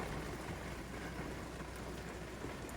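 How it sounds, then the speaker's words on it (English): Heavy rain drumming outside a car during a road trip: a dense, steady hiss and patter that holds at an even level throughout, close and fairly loud, with no voices. "We're gonna have to wait for this rain to stop though."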